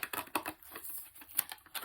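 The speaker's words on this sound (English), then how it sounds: "We're just going to cut the top off right here." A package top being cut open during an unboxing of a red OwNN USB to Lightning cable: quick rapid crisp snips and crinkling clicks, close up, with no talk.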